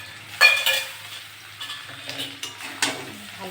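Chopped tomatoes are sautéed in oil for a tilapia curry with potato and papaya, with brief sizzles and a few scraping stirs of a spatula against the pan.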